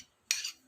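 A brief scrape of a utensil against a bowl while tuna onigiri filling with onion and leeks is mixed, a single short clatter rising out of near silence and fading quickly.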